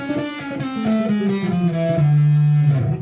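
A synth melody runs through a harmonic minor scale with an added tritone, in a dark, distorted style suited to a metal game soundtrack. The notes step downward and end on a long sustained low tone, loud, with no talk.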